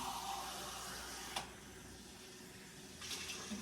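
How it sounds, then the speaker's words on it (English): Tap water rushes steadily into a canning pot during applesauce canning, a quiet continuous pour with a brief clank partway through and the flow picking up again near the end. "So I just need to add a little more water here to get it up higher to cover them up."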